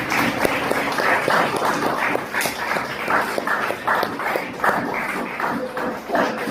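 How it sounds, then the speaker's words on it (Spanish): Church congregation applause after a Sunday sermon, heard as a steady rhythmic patter of many hands clapping throughout, fairly loud and close, with some voices underneath. "Den un aplauso al Señor."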